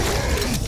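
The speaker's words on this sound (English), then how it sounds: "Can't you see I'm reloading?" A mechanical reload from the Killing Floor video game, heard as a short metallic ratcheting, gear-like clatter with a creak, fairly loud and steady for under a second, with no voices.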